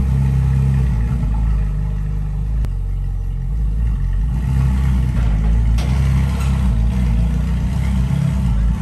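A Ferrari 458 Italia's engine idles and burbles loudly up close as the car is carefully manoeuvred, with a sharp click and rising revs partway through.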